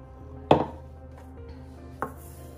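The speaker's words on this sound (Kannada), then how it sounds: "ಇವಾಗ ನಾನು ಕೊತ್ತಂಬರಿ ಹಾಕೋತಾ ಇದ್ದೀನಿ. ಇದೇ ರೀತಿ ಎಲ್ಲಾನು ನಾನು ಈ ತರ ಜಜ್ಜಿ ಪೌಡರ್ ಮಾಡ್ಕೋತೀನಿ." A pestle pounds coriander seeds into powder in a mortar: two sharp, close thuds about a second and a half apart, with quiet between them.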